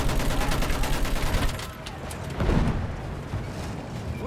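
Battlefield 1 gunfire at retreating enemies: a dense, continuous rattle of shots for the first second and a half, then a quieter stretch broken by a deep blast near the middle.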